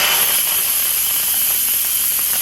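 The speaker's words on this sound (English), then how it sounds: "If I push this button, it'll make the steam come out." Pressure cooker on quick release, steam venting in a loud, steady hiss that stays constant for the whole stretch with no talk over it.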